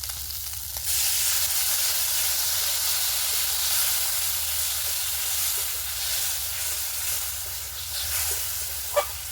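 Water hits a pan of frying desi magur catfish masala and bursts into a loud hissing sizzle that settles into steady bubbling, with occasional stirring scrapes and one sharp clink near the end.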